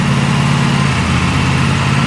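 An Aprilia RS 457 motorcycle engine idles steadily and loudly close by, a constant low rumble with no revving and no voices.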